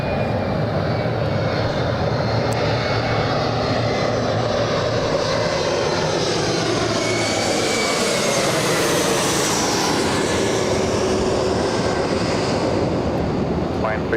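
Airliner jet engines at Los Angeles International Airport roar loudly and steadily, the pitch slowly rising and sweeping as a plane passes, with faint voices in the background.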